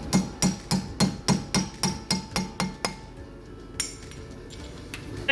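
A hammer strikes the rear wheel hub cap of a 2007 Nissan Micra in a quick, even series of about ten sharp metallic blows, close and loud, followed by a couple of lighter taps and clinks.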